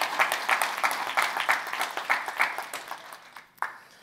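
An audience at a house-flipping seminar claps as a speaker named Adam comes up on stage, a lively burst of individual claps that thins out and fades toward the end, with one last stray clap.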